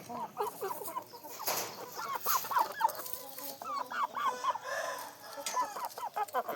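Young roosters crow in short, repeated calls on a chicken farm, several birds answering one another at close range amid softer clucking.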